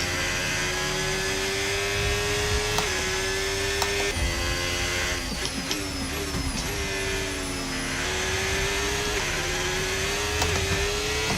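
An F1 car engine in the F1 25 racing game screams at high revs through a lap, with sharp gear shifts, pitch sweeps as it brakes and reaccelerates, and the loud engine note running throughout with no voice.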